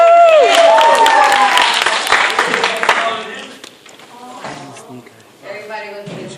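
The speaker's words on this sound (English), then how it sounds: "give her a round of applause" Audience applause and cheering at a high school evening of speeches and poetry, loud at first with whoops over the clapping, then fading to scattered claps as voices take over.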